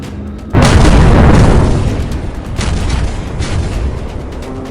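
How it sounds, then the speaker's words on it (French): A huge munitions explosion aboard the battleship Arizona at Pearl Harbor: one sudden, very loud close boom that erupts and rolls on as a long, dense rumble slowly fading under continuing crackle. "Ce serait 450 tonnes de munitions qui explosent et tuent des centaines de soldats qui meurent immédiatement."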